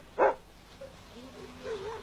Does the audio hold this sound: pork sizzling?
no